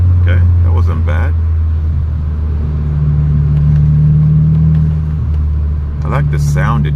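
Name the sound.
Audi S3 8L turbocharged engine revving with boost controller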